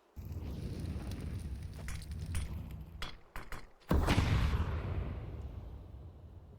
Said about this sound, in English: Incendiary and frag